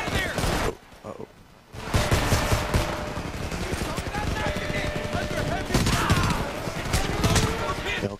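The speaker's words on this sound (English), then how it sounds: "you start shooting an enemy Huey with an AK-74" Sustained automatic rifle fire from an AK-74 in the Homefront video game, aimed at an enemy Huey helicopter, with dense rapid bursts running continuously after a brief pause, loud and close, mixed with other battle noise and voices.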